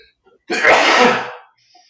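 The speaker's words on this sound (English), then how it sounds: "I'm going to sneeze here in 1 second" One loud, close sneeze bursting out after a short quiet moment, then fading into silence.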